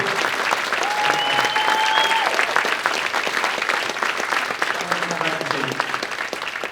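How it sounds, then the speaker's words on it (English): Steady applause from the audience at a leadership awards luncheon, a full crowd clapping continuously, with a few faint voices and whistle-like tones rising briefly within it. "Let's give her a round of applause"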